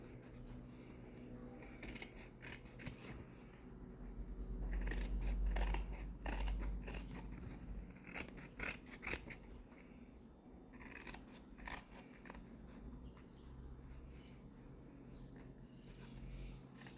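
Scissors cut through folded felt in repeated close, crunchy snips. The cutting grows louder midway, then continues in shorter bursts with handling noise and no speech.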